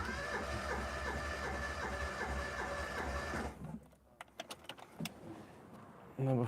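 A built Toyota 4AGE engine turns over on the starter with the throttle held wide open for a compression test on cylinder 4, a rapid, even rhythmic cranking that runs for several seconds, then stops, leaving scattered clicks and clatter.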